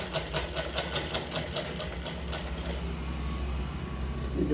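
Sewing machine stitching a small mattress cover for a child, a fast steady needle rattle up close that stops partway, leaving a low hum.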